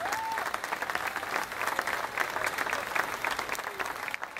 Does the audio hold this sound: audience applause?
yes